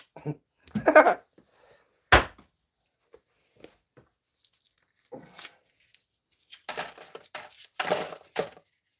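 Coins clatter and drop inside a coin pusher arcade machine, with a sharp metallic spill near the start and denser rattling bursts toward the end, close and moderately loud, with a few faint voice sounds between.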